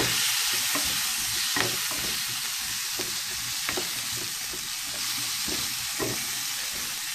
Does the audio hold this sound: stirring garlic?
yes